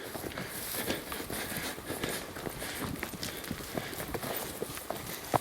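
Many sheep hooves patter and shuffle continuously across the ground, a busy trampling of animals moving together, with faint background noise.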